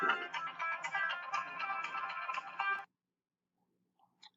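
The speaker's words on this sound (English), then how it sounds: "sorry about that, phone went off" A mobile phone ringtone plays loudly and steadily as a repeating melodic tune for almost three seconds, then cuts off abruptly, leaving near silence with a faint click near the end.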